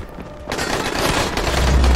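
After a quiet half second, a grenade explosion in the game Dying Light bursts out, followed by a dense, rumbling roar that keeps building to the end.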